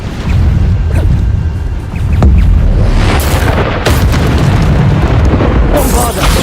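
Bombarda explosion spells in the video game Hogwarts Legacy burst again and again, with several loud, booming blasts and cracking impacts overlapping within a few seconds, and a voice is heard among them.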